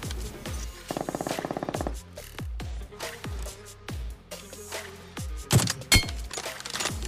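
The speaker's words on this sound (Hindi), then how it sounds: "आगे से फायरिंग आना स्टार्ट हो जाती है" Gunfire in the battle royale game BGMI: a rapid automatic burst followed by several single sharp shots, spaced irregularly, some close and loud, with a clattering impact near the end and no talking.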